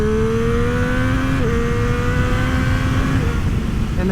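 A 2024 Triumph Street Triple RS motorcycle pulls hard downhill in second gear, its engine note rising steadily and loud throughout with a brief dip mid-pull, heavy wind rumble underneath and no talking.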